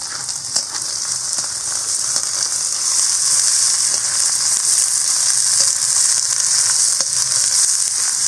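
Onions added to hot oil sizzle loudly and continuously, a bright close hiss with occasional faint pops and stirring ticks, no voices.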